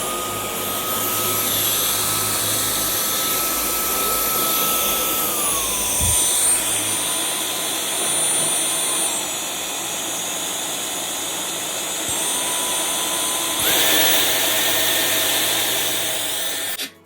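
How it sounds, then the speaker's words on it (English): A Dyson V12 Detect Slim cordless vacuum cleaner runs continuously with a loud, steady high motor whine, its pitch stepping down and back up as the power modes change, with brief bumps of handling. "I'm going to start vacuuming."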